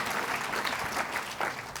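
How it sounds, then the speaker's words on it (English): Conference audience giving a round of applause during a talk, a brief burst of loud, dense clapping from a crowd filling the room. "Give him a round of applause"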